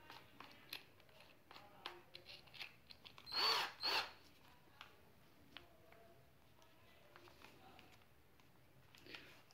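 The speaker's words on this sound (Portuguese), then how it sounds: "Agora eu vou usar o bit dela para a gente colocar o parafuso." A 12 V cordless screwdriver, the CR Ferramentas QFC1012-25N, drives a screw in two short whirring bursts close by, amid quiet handling clicks and taps in a calm room.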